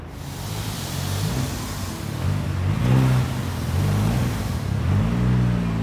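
A car fitted with a racing clutch revs its engine at close range, a rough mid-pitched drone that swells and falls several times over a constant noisy background, with no talking.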